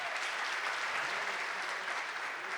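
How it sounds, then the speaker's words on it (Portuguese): An audience at a state culture conference in Rio Grande do Norte applauds steadily, a dense, even wash of many hands clapping throughout at moderate loudness. "Uma salva de palmas, galera!"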